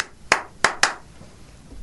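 Three sharp hand claps imitating the Terminator clap, spaced unevenly with a longer gap before the last two in quick succession, close and crisp with quiet room tone between.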